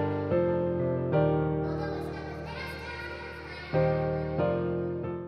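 A sampled piano in a trap beat plays chords that ring out with a washy, vintage-style reverb and echoing delay trails, each chord swelling then fading slowly.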